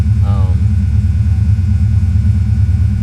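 A car engine idles steadily right after a cold start, a loud, close, low pulsing rumble that holds constant, with a brief faint tonal chirp near the start.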